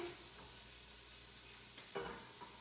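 Food frying in a pan for a bone broth soup, a soft, steady sizzle with a couple of light stirring scrapes near the end, no talk.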